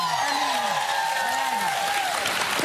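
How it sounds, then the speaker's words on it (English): Studio audience applauds on a daytime television talk show, a continuous broadband clapping from the crowd, fairly even in level, with a voice briefly rising over it near the end. "Don't applaud that now."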